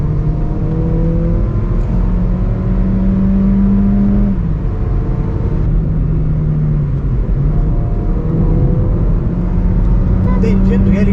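A Volkswagen Polo GT TSI engine drones and revs steadily, its pitch shifting up and down with a continuous low rumble, loud and close throughout.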